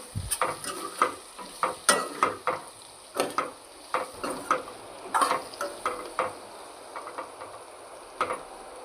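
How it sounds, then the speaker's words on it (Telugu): Spices frying with chili powder in a pan, a soft sizzle under a series of scraping stirring strokes from a spoon against the pan, irregular and fairly close. "ఇప్పుడు అందులోనే కారం వేసుకొని బాగా వేగనిద్దాం."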